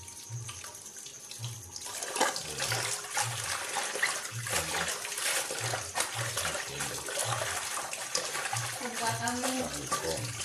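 Tap water runs steadily over chili leaves being rinsed at a kitchen sink, a continuous close splashing wash with faint voices underneath.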